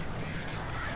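Crows caw in a dark forest in the video game Alan Wake, a harsh continuous squawking that fills a short moment, close and fairly loud.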